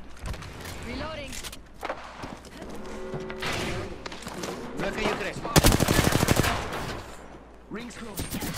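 Gunfire in a video game: scattered single shots and rapid automatic bursts, a dense loud volley in the middle, mixed with game voice callouts and footstep-like thumps.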